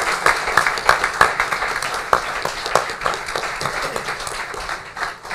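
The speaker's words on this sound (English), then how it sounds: "Please stand for a round of applause." A township council meeting audience gives a standing round of applause for a retiring police officer after 25 years of service, dense and close, with sharp individual claps throughout.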